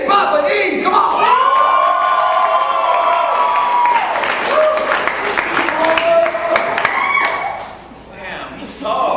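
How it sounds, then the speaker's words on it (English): Live audience at a hip-hop stage show clapping, shouting and stomping, a loud dense crowd din with a tonal ringing line and a hyped voice running through it, dipping near the end. "Everybody start stomping your feet. Start clapping your hands."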